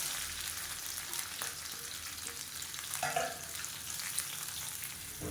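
Onions and mint leaves fry in a pan for a lunch-box dish, giving a steady, close sizzle with a faint stir or clink partway through and no one talking.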